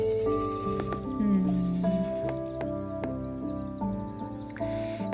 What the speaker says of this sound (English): I love like the little horses neighing and everything.